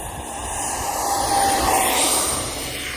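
Twin 64mm electric ducted fan Arrows MiG-29 model jet takes off from a freshly mowed grass runway, a steady loud whooshing whine that swells and fades as it passes close by.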